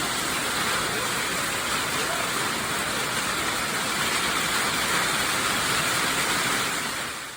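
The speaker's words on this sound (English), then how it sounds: "Maybe I'll insert a little video of the hail." Hail pounds on a barn roof at a sheep and wool festival in Maryland, a loud, dense, continuous roar of impacts with no pauses.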